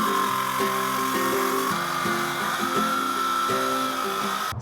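A circular saw rips lengthwise through a salvaged wooden door, giving a steady, loud motor whine with a shifting pitch that continues without pause and cuts off abruptly at the end. No talking.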